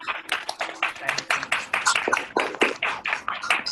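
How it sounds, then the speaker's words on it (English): An online audience claps for Devesh after being asked to unmute, giving scattered, uneven hand claps from several people at once, fairly close and loud, with no talking. "I request everyone to kindly unmute and give a"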